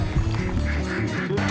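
Duck calls sound continuously and fairly loud in an outdoor lake setting where wood ducks are being banded, with layered quacking and honking over a steady background murmur.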